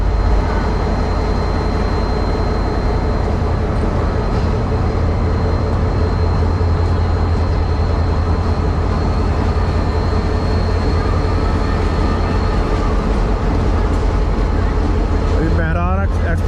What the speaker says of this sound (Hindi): आज मोइंजोदड़ो ट्रेन के अंदर स्लो सफ़र है और सुस्त रफ्तार है